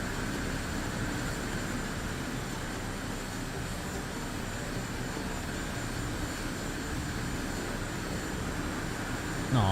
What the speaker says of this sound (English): Too many airplanes nearby. Got an L-39 nearby us